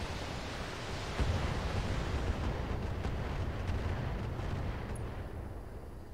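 Missile turret firing in a mech combat video game: a dense, sustained low rumble of launches and impacts with a swell at about one second, steady and loud throughout, no voices.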